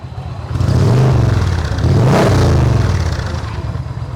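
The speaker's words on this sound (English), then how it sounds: "Hit that throttle." An Indian touring motorcycle fitted with Daytona slip-on exhausts revs hard twice, the loud close engine note climbing and falling in two strong throttle blips over a rumbling idle.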